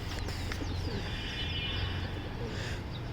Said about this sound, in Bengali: তো আরও কিছু কবুতর আসা বাকি আছে